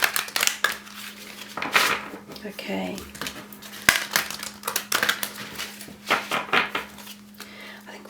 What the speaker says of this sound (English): let's just do another couple of shuffles